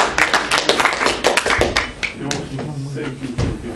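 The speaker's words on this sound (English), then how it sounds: "It's a big applause for our audience." Audience clapping at a Dutch Ethereum and Bitcoin meetup after a presentation, a burst of close, uneven claps that thins out toward the end, with speech mixed in.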